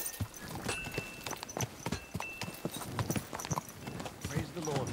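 Horse hooves clip-clop in a steady walking rhythm in Kingdom Come Deliverance II, close and fairly loud, with voices talking over the footfalls throughout.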